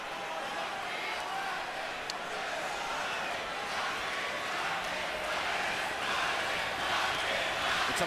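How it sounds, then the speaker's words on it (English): Boxing arena crowd at a Pacquiao–Marquez bout, a dense steady roar of thousands of fans with rhythmic chanting swelling through it, continuous and loud throughout. "now they're chanting Marquez, Marquez, Marquez"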